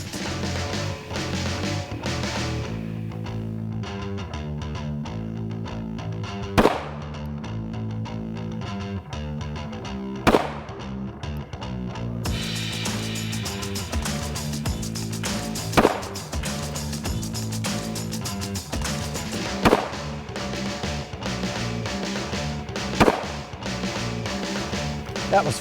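Five sharp, loud gunshots from a Springfield Hellcat 9mm subcompact pistol firing Speer Gold Dot rounds, spaced irregularly over about twenty seconds above steady background music.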